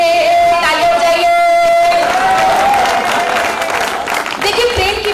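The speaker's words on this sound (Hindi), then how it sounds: "तालियां बजाइए" A college audience at a Delhi comic poetry event claps and cheers loudly after a sung line, with sustained tones and voices mixed into the applause.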